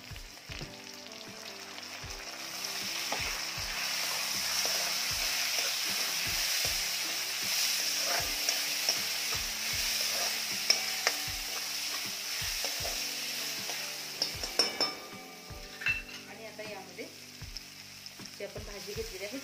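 Onion fries in a pan for a mixed dill and bell pepper vegetable dish, a steady soft sizzle running throughout with a spoon knocking and scraping against the pan in irregular stirring taps, close and moderately quiet.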